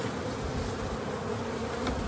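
Honeybees at a hive during a shook swarm fill the air with a dense, steady buzzing, close and continuous, with no talk.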